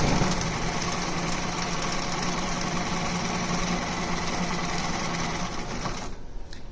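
A sewing machine stitching a straight line along a fabric face mask strap, running in a steady continuous mechanical whir close up, then stopping just before the end.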